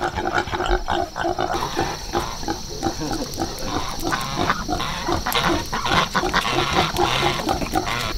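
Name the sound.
small white piglet squealing, wanting to suckle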